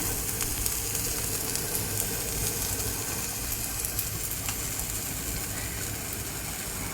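Tapala chekkalu, Telugu rice crisps, cook in a pan with a steady, even sizzle and soft frying hiss that holds at the same level throughout, with no talking.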